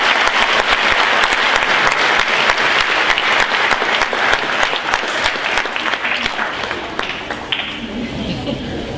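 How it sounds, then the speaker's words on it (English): Loud, sustained applause from the audience at a junior high school awards ceremony, dense clapping throughout that thins slightly toward the end. "If you could just hold your applause"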